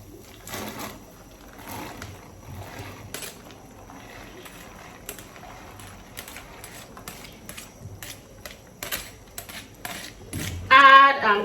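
A spoon stirring parboiled beans and potatoes in a cooking pot, giving repeated metallic scrapes and clinks in an irregular rhythm, close and clear, with a louder clatter near the end.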